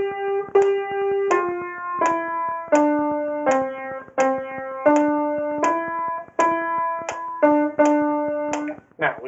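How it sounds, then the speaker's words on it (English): Beethoven's Ninth Symphony played at a moderately slow tempo on a plucked or struck keyboard-like instrument, with clear single notes and a steady metronome-like click marking each beat, heard close with no talk. "We will begin by taking Beethoven's Ninth Symphony at a moderately slow tempo."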